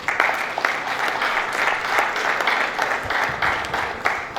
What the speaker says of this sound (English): A round of applause once again for the provost and the director for that welcome address.